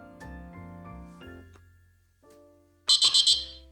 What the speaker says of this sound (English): Okay, so the timer's now gone off.